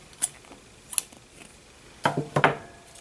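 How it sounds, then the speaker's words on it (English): Scissors snip through crochet yarn at the end of a flower motif, a few quiet sharp cuts spaced out, then two closer snips near the end, with no talking. "then I'm cutting my yarn"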